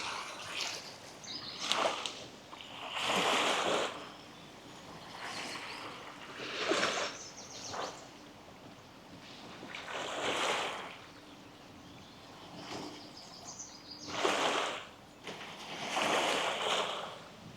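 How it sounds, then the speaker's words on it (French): Ocean waves wash onto the shore in a slow rhythm of broad surges, each swelling and breaking then receding into hiss, with about six surges close by and fairly loud. "J'ai peur que les vagues fassent tomber la caméra."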